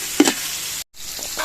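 Onions softened with chopped tomatoes and green chillies sizzle and fry in a pot, a close, steady hiss with a stirring scrape near the start and a brief gap of near silence.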